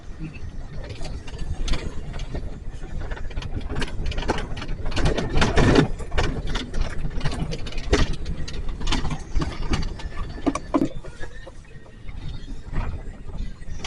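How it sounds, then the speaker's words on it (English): A 3/4 ton Super Duty pickup truck drives along a rough road, with a steady engine drone under continuous rattles, clunks and jolts from the cab and suspension. Irregular bumps punctuate the ride. "Maybe this road isn't so bad if a guy's in a half-ton, but in a 3/4 ton Super Duty, it is not a smooth ride."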